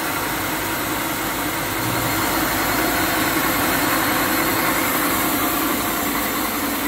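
A 2HP three-phase induction motor runs steadily, a constant mid-pitched hum and whir with a faint vibrating buzz, loud and unchanging throughout with no talk.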